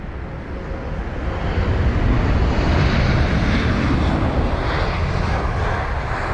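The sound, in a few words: Airbus A320 airliner arriving at London Heathrow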